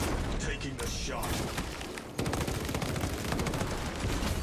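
Dense bursts of gunfire fill a Space Marine video game battle, with a sharp shot near the two-second mark cutting through continuous loud combat noise; a voice talks over the action.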